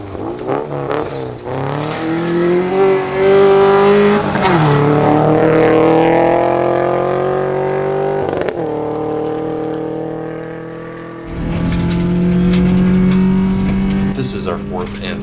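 A stage rally car tears through a dusty forest corner during the Tour de Forest rally, its engine loud and revving hard with rising pitch, then easing off before a second close, roaring pass; a voice speaks partly over it.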